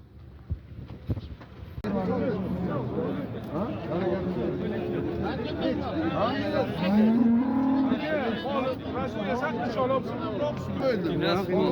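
Cattle moo at a livestock market in Qarakol, with long low calls rising over steady crowd chatter and open-air noise throughout.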